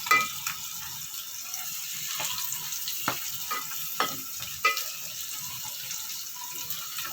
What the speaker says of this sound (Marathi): छान असे फ्राय होऊ द्यायचे मस्त।